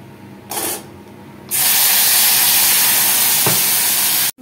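Whole spices tipped into hot oil in a pan while cooking a Bengali fish curry, a brief hiss and then a loud, sustained close-up sizzle that cuts off abruptly near the end, no talking.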